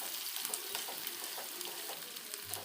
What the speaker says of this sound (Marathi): त्यानंतर आपल्याला कांदा थोडासा लालसर होईपर्यंत परतून घ्यायचा आहे।